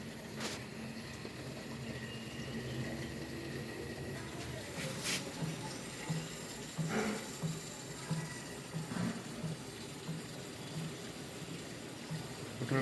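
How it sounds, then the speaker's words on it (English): Water flows steadily out of a home water softener during a DIY regeneration with crystal salt. The rush is continuous and moderate, with a few brief knocks and clunks on top and no talk. "Okay, water is coming out."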